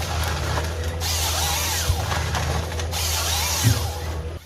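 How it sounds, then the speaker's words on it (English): A forestry harvester's high-speed circular saw blade cuts through a massive tree trunk, a steady heavy mechanical drone with whining pitch sweeps and two brief knocks, loud and close, with no talking. "a high-speed circular saw blade spins up, slicing through the massive stem with absolute definitive authority"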